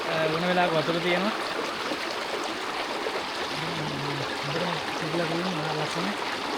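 A small stream flowing beside the Dolukanda hiking trail makes a steady, soft rushing trickle while someone talks over it.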